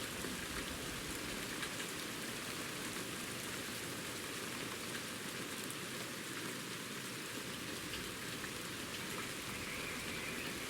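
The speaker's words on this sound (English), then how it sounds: "Been raining a lot." Steady rain falls in the fishing video game Ultimate Fishing Simulator, a dense, even hiss that runs unbroken throughout with no voices.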